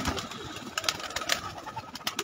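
Pigeons coo repeatedly and fairly close in a loft of champion racing birds, with soft throaty rolls and fluttery bursts over a steady background hum.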